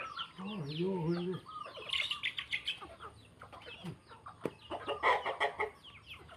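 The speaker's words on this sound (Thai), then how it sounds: "ไก่ก็มาเก็บกินข้าวด้วย" Chickens cluck and chirp nearby in a busy, overlapping chorus as they peck at scattered rice in the morning, with a few scattered bird tweets in the background.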